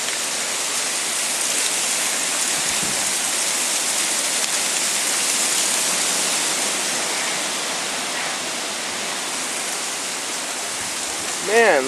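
Strong wind roaring outdoors on a gray November day, a loud, steady broadband rush with slight gusting swells, close to the microphone and without a break.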